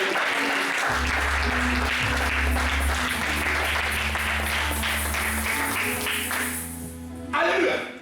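Congregation at a church service applauding to acclaim Jesus, sustained dense clapping throughout with a low hum and voices mixed in, easing off near the end.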